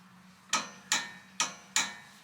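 A torque wrench clicks off as caliper bracket bolts are tightened to 40 foot-pounds during a rear hub bearing replacement, four sharp, evenly spaced metallic clicks close up in a quiet workshop.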